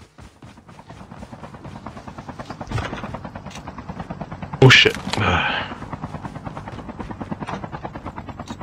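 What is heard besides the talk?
helicopter in a video game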